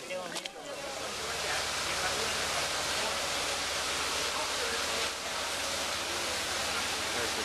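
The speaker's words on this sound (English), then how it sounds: "Coffee hopper, the water filling up the tank" Water pours and rushes into a coffee processing tank in a steady loud wash, a continuous broadband roar that holds without a break.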